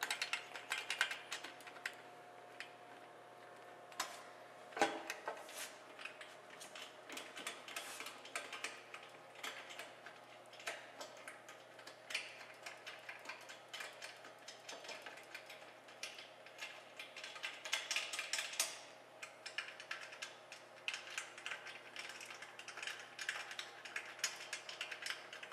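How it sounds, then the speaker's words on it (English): A ratchet tightens bolts onto studs, a fine rapid clicking that runs steadily through the whole stretch, close and fairly quiet with no talk over it. "Loosely tighten the bolts, hold up firmly on the far end,"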